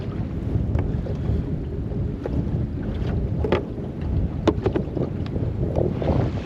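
Strong wind blowing over open water around a small fishing boat off Perth, a constant rough buffeting rush with scattered knocks and splashes, no voices.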